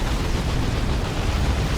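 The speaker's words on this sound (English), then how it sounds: "Really good stick bomb throw." A stick bomb explodes in Dawn of War 2, a loud dense blast of broadband noise with heavy low rumble that holds steady for the whole moment.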